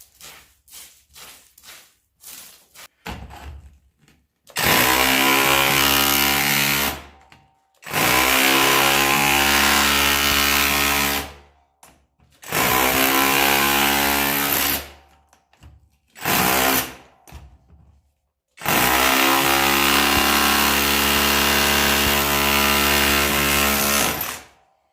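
Parkside PKHAP 20-Li cordless hammer drill running loud and close in several long sustained bursts with a steady hammering buzz, broken by short pauses and clattering start-ups.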